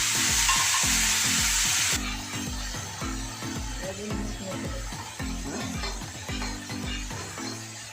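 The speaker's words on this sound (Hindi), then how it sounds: "तेज पत्ता, पंचफोरन, सूखी लाल मिर्च और ये लगेगा तड़का।" Bay leaf, panch phoron and dried red chilies hit hot oil for a tadka, a loud burst of sizzling up close that settles into steady frying crackle with rhythmic stirring scrapes and light clinks.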